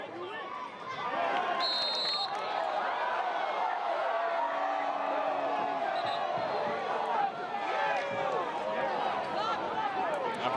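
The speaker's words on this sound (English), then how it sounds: "A bit of a lively crowd here, especially with the youth at Thompson Field" Lively crowd of youth fans at a Thompson Field college men's soccer match between Duke and Virginia Tech, a constant babble of shouts and cheers with occasional whistles rising over the hubbub.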